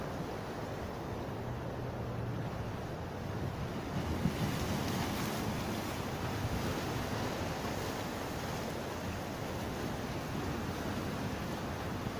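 Waves washing onto a Gulf beach on a foggy day, a steady broadband surf roar with one faintly stronger surge near the middle, mixed with light wind noise on the microphone.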